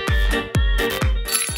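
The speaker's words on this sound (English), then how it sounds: "at the very start, he touched the bell" Bell struck by touch during a game race, ringing four times in a quick series of bright metallic strikes with lingering resonance, close and loud, no talk.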